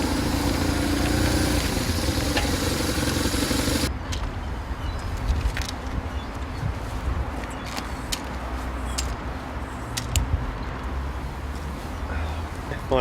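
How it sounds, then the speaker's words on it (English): A BMW R1150 RS motorcycle engine runs steadily outdoors, loud and broadband at first, then quieter and rougher after a few seconds, with faint clicks and some talk in the background. "This motorcycle here is the BMW R1150 RS."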